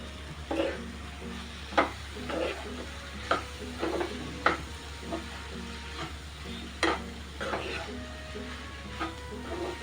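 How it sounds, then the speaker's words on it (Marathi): Sprouted whole masoor lentils being stirred into an onion, potato and tomato masala in a pan, with a soft steady sizzle broken by repeated scraping strokes of the spoon, close and moderately quiet. "त्याच्यामध्ये आपण आता ही मसूर घेतलेली आहे मोड आलेली ती पण टाकून घेऊ"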